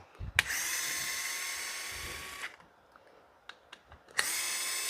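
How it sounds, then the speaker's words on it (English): A power drill whines in two sustained bursts, loud and close, separated by a pause with a few clicks and knocks. "this is where the power tools come in handy."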